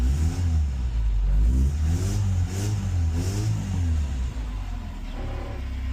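The engine of a Ford Escort Mk3 Bantam pickup runs close by, a low rumbling idle rising and falling through several throttle revs before settling back down.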